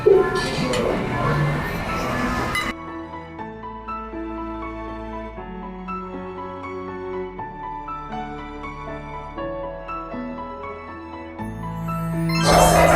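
Food is scooped and served onto plates at a Valentine's date meal, with light clinks of cutlery and dishes at the start and end, a soft sustained melodic tone in between.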